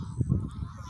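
Geese and ducks honk at a bird sanctuary in a thick, close chorus of low, overlapping honks that swell and fade continuously through the moment, with no voices.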